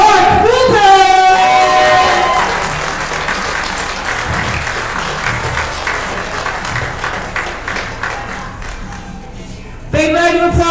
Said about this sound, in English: Big round of applause to your best male lifters of this Masters Open